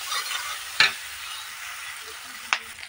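Chili paste sautéed with spices in a pan for a prawn curry, a soft continuous sizzle broken by two sharp scraping stir strokes, close and without talking.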